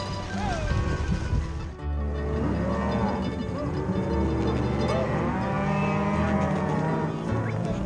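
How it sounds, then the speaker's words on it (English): Cattle moo in long, drawn-out overlapping calls, a herd of cows with their calves being gathered and sorted by riders on horseback, heard steadily from nearby across the whole stretch. "get this group of cows up, get them sorted and divided, keep them with their calves"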